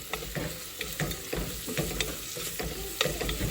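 Cashews and other ingredients fry and get stirred in a pan for Nellore-style katte pongal: a steady close sizzle broken by repeated scraping spoon strokes, with no talking.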